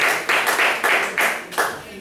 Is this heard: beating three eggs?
no